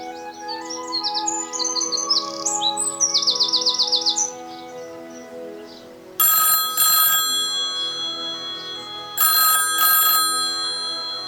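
Stage telephone sound effect in a live theatre performance of the farce Noises Off, ringing in two loud bursts after a stretch of bright chirping and bell-like effects, with an audience-hall ambience behind.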